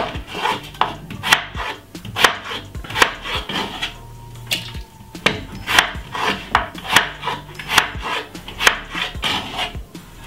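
A knife chops potatoes into small pieces on a cutting board, giving a quick series of close, sharp knocks in uneven bursts with short pauses between.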